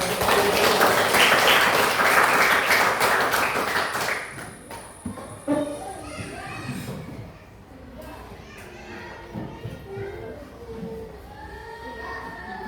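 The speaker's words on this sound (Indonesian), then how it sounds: "Bagus, tepuk tangan." A classroom of students claps together in a brief burst of dense, close applause lasting about four seconds, followed by children's chatter and movement at lower level.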